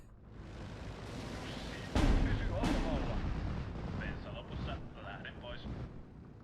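Aerial bombs explode during a World War II strategy battle in Steel Division 2, a heavy booming blast followed by a second burst and a long rumbling roll of gunfire and artillery, with smaller crackling impacts trailing off and talk over it.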